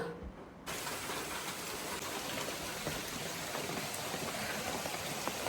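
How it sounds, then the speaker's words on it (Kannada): Light drizzling rain makes a steady, soft patter that comes in after a brief quieter moment and then continues evenly throughout. "ಮಳೆ ಸ್ವಲ್ಪ ಬರ್ತಾ ಇದೆ ಡ್ರಿಸ್ಲಿಂಗ್"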